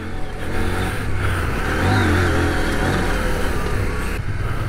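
A CF Moto 800MT motorcycle rides off-road in first gear, and its engine drones steadily and loudly close to the rider while wind roars over the microphone.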